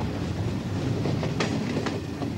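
A steady low rumble of a Hungarian state railway train rolling along rails from the Austrian border, with faint rhythmic clacks from the wheels passing over joints.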